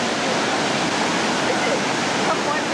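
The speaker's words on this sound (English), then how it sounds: "I guess the water falls down here." Steady broadband rush of water pouring down through a rocky chasm, heard close and continuous without pause, with no other sounds breaking through.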